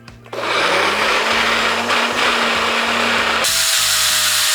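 Ninja BlendBOSS blender running a thick hummus-like blend, a loud motor whine that starts abruptly, holds steady for several seconds, then cuts off into a fading spin-down hum.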